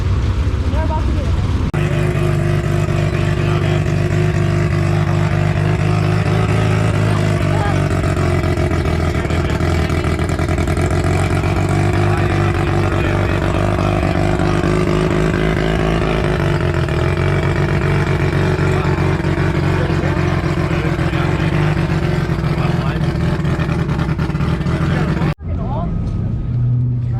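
A Chevrolet LS3 V8 built out to a 408 stroker idles and revs at a Cleetus car event, a loud, steady, harmonic-rich engine drone lasting most of the clip before cutting off abruptly near the end, with voices faintly mixed in.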